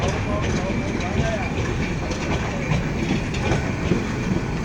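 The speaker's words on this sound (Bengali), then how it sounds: "তিস্তা ট্রেনটি নয়টায় ছেড়ে চলে যায় জয়দেবপুর স্টেশন থেকে এখন চলে গেল তিস্তা" The Tista passenger train rumbles and clatters past at close range departing Joydebpur station, a continuous heavy roar of wheels on rails with rhythmic clacking throughout.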